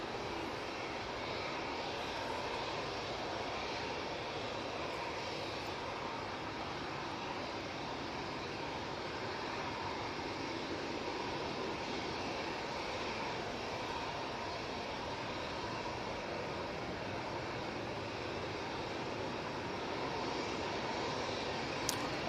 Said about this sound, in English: that A330 is on the taxi out towards us now